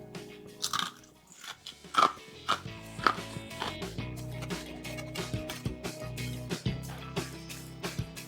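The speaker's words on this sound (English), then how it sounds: "just to show you how much crunch this bacon has in the microwave, listen." Loud, close crunching bites of crispy microwaved bacon, several sharp snaps followed by steady chewing.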